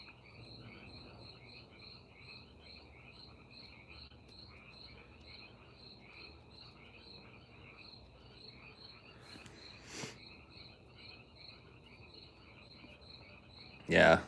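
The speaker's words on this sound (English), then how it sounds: "Don't crickets make their noise by vibrating their wings against their bodies?" Night insects chirp in a steady pulsing trill, with frogs croaking faintly beneath. A brief rustle comes midway and a sharp loud bump right at the end.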